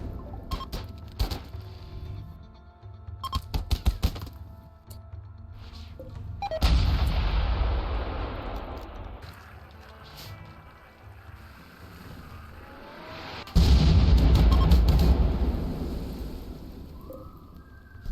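Artillery firing anti-grain warheads in RimWorld: scattered light ticks and clicks lead into two huge blasts several seconds apart, each with a long, roaring, rumbling tail that slowly fades. No voices.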